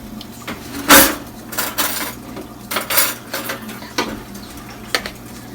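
A fork pricks potatoes in a bowl, giving a series of sharp metallic clinks and taps at an irregular rhythm, close and clear with no talking.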